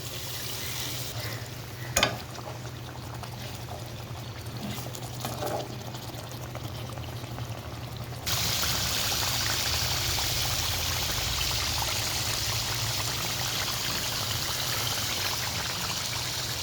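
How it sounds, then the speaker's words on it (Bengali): Water poured into a pan of tilapia fish curry cooking in spice paste: a soft simmer with a brief clack, then a loud steady rush of pouring and hissing for the second half. "মাছটা একটু উল্টে পাল্টে পানি দিয়ে দিচ্ছি।"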